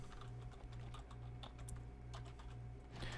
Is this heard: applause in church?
no